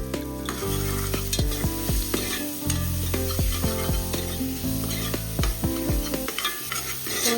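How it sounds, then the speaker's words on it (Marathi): Finely chopped onion sizzles in hot oil in a pan for a chicken curry, with repeated scraping and knocking of a spoon as it is stirred, close and continuous. "त्याच्यामध्ये कांदा, बारीक चिरलेला थोडासा कांदा टाकून घ्यायचा."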